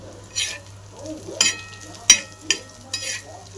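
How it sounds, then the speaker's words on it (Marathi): Onion fries in a pan for a black masala chicken curry, a faint low sizzle up close broken by several sharp scrapes and clinks as it is stirred. "आपला कांदा भाजत आला आपण अजून त्याला दोन मिनटं भाजून घेऊ"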